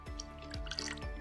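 Shaoxing wine is poured into a sauce of soy sauce and vinegar, giving a few soft, close dripping and splashing sounds over a quiet low hum. The sounds are faint and brief, and no one talks.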